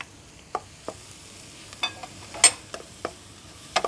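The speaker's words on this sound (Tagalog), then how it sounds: "isusote lang natin o igigisa lang natin hanggang mag golden brown to" Chopped garlic, ginger and green chili sauté in a pan for pork sisig, with soft sizzling under scattered stirring scrapes and clicks of the utensil, close and fairly quiet, with no talk.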